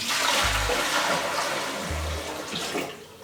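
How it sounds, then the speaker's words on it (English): Water poured into a fish tank that has been cycled with a starter product, a steady rushing pour with continuous splashing throughout, with two low hum-like thuds underneath. "But we'll go ahead and put this water in."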